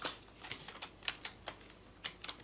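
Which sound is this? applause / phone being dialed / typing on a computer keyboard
typing on a computer keyboard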